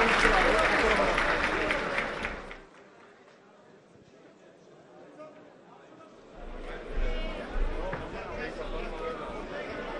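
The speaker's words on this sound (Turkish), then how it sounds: "coşkulu alkışlarınızı duyalım değerli katılımcılar bir kez daha" An audience of farmers and attendees applauds at a rural development meeting in Turkey. A loud burst of clapping gives way to a quiet lull, then swells again into steady applause, with voices in the crowd.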